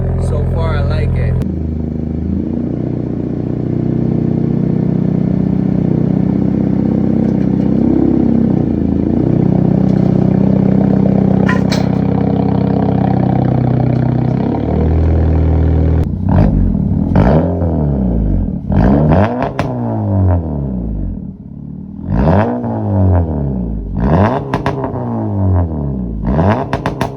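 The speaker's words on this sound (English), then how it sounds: "Cold start. It's sounding really deep." A turbocharged Honda Civic with a full exhaust, cold-started, idles with a deep, steady exhaust rumble, then revs repeatedly in sharp bursts, loud and close.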